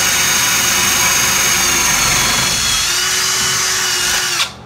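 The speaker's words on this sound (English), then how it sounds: "You saw me drill this one here, which is very touchy." A power drill runs loud and steady, boring through ceramic wall tile to mount sink plates and supports, with a continuous whine and grinding that ends abruptly near the end.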